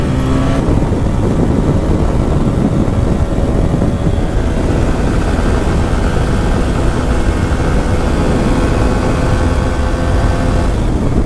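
A TVS Apache RTR 160 4V motorcycle accelerates hard along an empty road with a loud, continuous engine roar and rushing noise. The sound is close and steady, and no one speaks over it.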